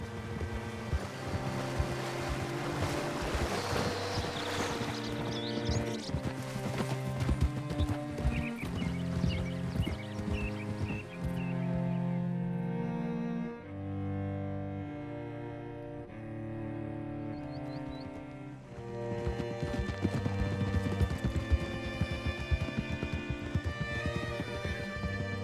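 Horse hooves clip-clopping during riding in Red Dead Redemption 2, steady and fairly near under a background of swelling game music with occasional neighing.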